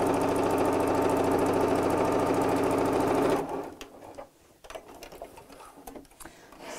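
A sewing machine stitches fabric for a tea cosy, a fast, even mechanical whirr heard close for about three seconds before stopping, followed by light fabric handling and quiet rustles.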